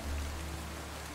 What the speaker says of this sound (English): So, it's 12 minutes of rain that you guys have been hearing.